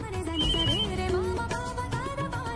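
Telephone ringtone in a Hindi TV drama household scene, a short melodic electronic ring playing clearly for a couple of seconds over background music.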